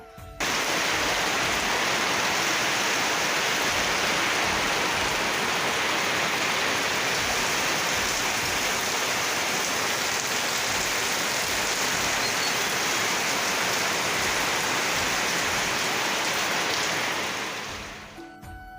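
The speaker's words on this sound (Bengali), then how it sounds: "এদিকে প্রচুর বৃষ্টি হইতে আছে বৃষ্টির শব্দটা একবার শুনো তোমরা" Heavy rain pours down with a dense, steady rushing roar that stays constant and loud before fading out at the end, with no talking.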